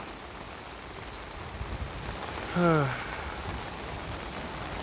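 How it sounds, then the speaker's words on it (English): Heavy rain falls in southern Fukuoka as a steady, fairly faint hiss that runs throughout, with a voice briefly breaking in near the middle. "Now it's southern Fukuoka's turn to get rained on."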